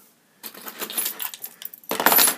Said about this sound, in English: My keys, there's nothing fancy about the keys.